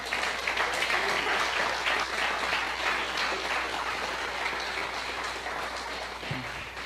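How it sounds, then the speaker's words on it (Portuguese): Church congregation applauding at a Christmas Day service, a dense, steady wash of many hands clapping at once, sustained and fairly loud, with faint voices underneath. "Eu queria que você desse uma salva de palmas ao Senhor"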